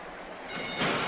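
Crowd roar swelling at the start of a horse race at the track, Cigar loaded in the outside gate, a broad noisy rush that builds and grows louder partway through.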